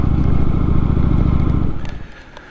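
Kawasaki Vulcan 900 Custom motorcycle pulling in, its loud close engine rumbling steadily before easing off and fading to a quieter idle near the end.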